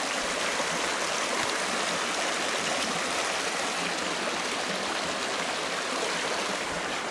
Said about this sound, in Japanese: ここで川がぶつかるし。